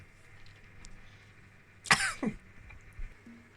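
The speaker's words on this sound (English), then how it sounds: "I had to stop and have a good cough." A single sharp cough bursts out close by, followed by a second rougher hack, then a faint throat sound in a quiet room.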